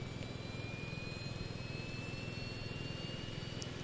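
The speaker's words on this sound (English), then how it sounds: "So you guys might even hear the APU spooling." A Boeing 717 APU spools up in the Prepar3D flight simulator, a steady broadband whine with a slowly rising high tone holding at an even loudness throughout.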